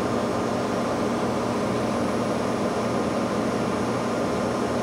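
The spindle of a 12 by 24 inch Okamoto high-precision CNC profile surface grinder runs on its high winding, producing an even, continuous motor hum and airy whir with no voices.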